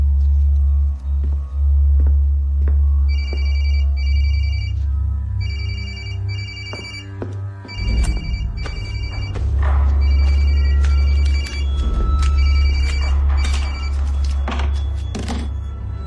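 A telephone rings in repeated double bursts over a heavy low rumble, with scattered thumps and clatter that grow busier toward the end.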